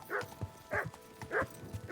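A dog barks in the video game Kingdom Come Deliverance 2, three evenly spaced barks with soft yips between them, fairly close and clear, with no talking.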